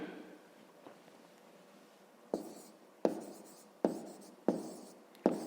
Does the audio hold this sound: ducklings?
no